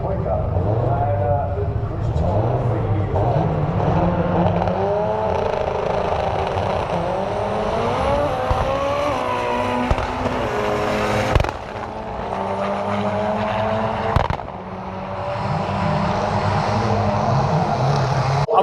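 At Santa Pod's Doorslammers drag racing event, the Fraudster Mark 1 Escort and a Fiesta race. Loud engines roar and rev, with rising pitch sweeps as the cars launch and pass, while a commentator talks over them.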